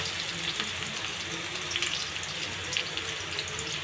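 Spices and ingredients for khichuri fry in hot oil in a wok, giving a steady, moderately faint sizzle with light crackles and no voices.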